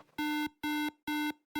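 An Arduino temperature-control circuit's buzzer sounds an overheat alarm: four loud, even electronic beeps in a steady on-off rhythm, close and alone.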